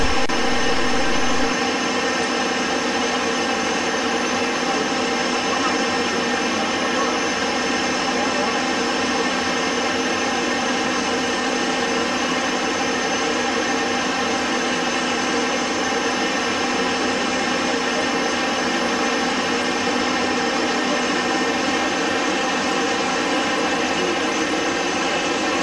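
Steady, loud jet engine roar from a Fouga 170 jet aircraft in flight near an airport, a continuous even whine and rush sustained without a break throughout.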